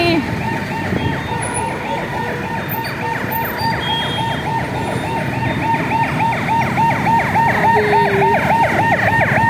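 An ambulance siren wails loudly and close by in a steady repeating cycle, over traffic noise.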